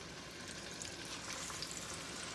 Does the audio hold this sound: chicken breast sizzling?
yes